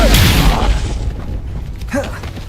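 A fire spell cast in the video game Hogwarts Legacy lets off a loud whooshing burst and boom at the start, fading out, with a second smaller burst near the end.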